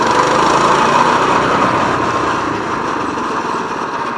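Small high-revving motorcycle engine, as for a wheelie on a hill-climb ride, droning loud and steady throughout with a slight dip in pitch and level toward the end, no voices.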